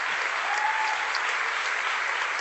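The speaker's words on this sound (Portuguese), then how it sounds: "Será que a gente pode aplaudir o Senhor?" Church congregation clapping in praise, a thick continuous burst of applause filling the whole moment at a steady, fairly loud level.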